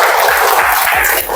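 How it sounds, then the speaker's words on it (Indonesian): A classroom of students claps together at the teacher's request, a dense, steady burst of many hands that holds evenly and dips only briefly near the end. "Kita beri tepuk tangan dulu"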